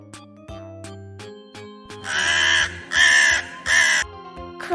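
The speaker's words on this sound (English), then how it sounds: "Crow." A crow on a farm gives several loud harsh caws in quick succession, each a raspy burst, with quieter animal calls before them.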